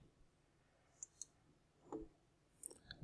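A computer mouse clicks a few times, crisp and quiet, with short isolated taps and a small cluster near the end over low room hiss while adjusting Windows 10 VPN settings.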